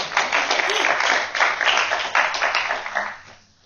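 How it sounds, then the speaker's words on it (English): A studio audience breaks into a big round of applause for a guest at a live interview event, dense steady clapping that stays loud for several seconds before tapering off at the end. "and everyone, if you can give a big round of applause for Marisa."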